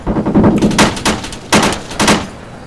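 Artillery shells crashing down in a barrage in Arma 3, a string of loud broadband impacts and bursts arriving every half second or so, with two heavier blasts standing out near the end.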